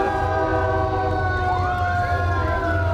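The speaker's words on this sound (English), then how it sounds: "I think we just had a train get in the parade." A train horn blares with long sustained tones over a steady low rumble of a train passing a town parade, loud and fairly close.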